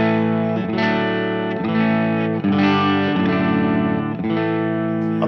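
An electric guitar through the clean channel of a Laney Ironheart Foundry Loudpedal plays sustained, ringing chords strummed every second or so, up close and even in level, with a slightly chorused, shimmering tone and no voices.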